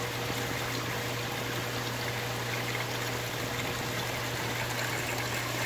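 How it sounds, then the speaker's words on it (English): Thick sludge drains from the open backwash valve of a water filter, a steady loud rushing pour with a constant hum beneath it. "I'm gonna open this valve right here. Nice thick sludge leaving."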